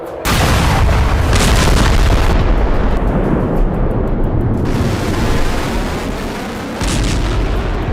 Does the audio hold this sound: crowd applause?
no